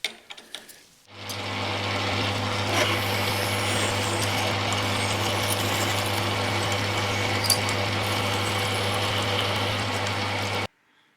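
A steady, continuous machine whine from drilling a metal part starts abruptly, holds an even drone with a strong low hum for about ten seconds, then cuts off sharply.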